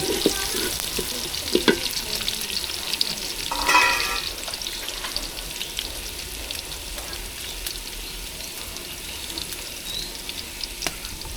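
Salted onions fry in a pan with a continuous crackling sizzle, close and fairly even, broken by a few brief clinks and a short splashy burst.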